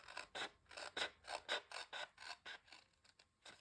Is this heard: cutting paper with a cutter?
yes